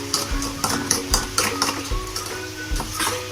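Mango cake batter being stirred by hand in a bowl, a utensil scraping and clinking against the sides in a steady rhythm of repeated strokes, close and clear with no talking.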